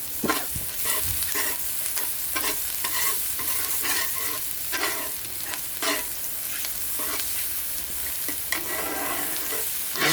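Tofu and fish cake frying in oil in a pan for mee goreng on an iron barbecue plate, a steady close sizzle with repeated stirring and scraping strokes throughout, no talk.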